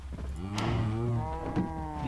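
Cattle in the Minecraft video game moo in a few drawn-out, close, clear calls over a steady low background, with no talk.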